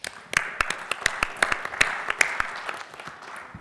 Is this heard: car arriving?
no